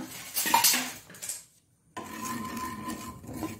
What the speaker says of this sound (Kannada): 1-2 ಚಮಚಗಳಷ್ಟು ಗಸಗಸೆಯನ್ನು ತುಪ್ಪ ಏನು ಹಾಕದೆ ಇದು ಬಿಸಿಯಾದ ಕೂಡಲೇ ಹೀಗೆ ಡ್ರೈ ಆಗಿ ಸ್ವಲ್ಪ ಫ್ರೈ ಮಾಡಿಕೊಳ್ಳೋಣ